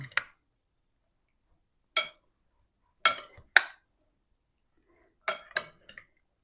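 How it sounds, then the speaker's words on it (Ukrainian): Utensils clink against a bowl while a beet and herring salad is gently mixed, with six sparse, short scrapes and taps separated by silence. "І все це дуже обережно перемішуємо."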